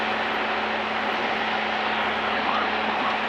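Inside the cockpit of a Zenith CH 750 Cruzer with a Continental engine, a steady loud propeller drone and engine hum holds throughout, with power being reduced to bleed off speed.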